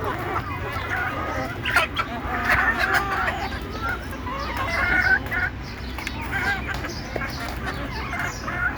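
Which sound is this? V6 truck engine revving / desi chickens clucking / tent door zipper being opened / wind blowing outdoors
desi chickens clucking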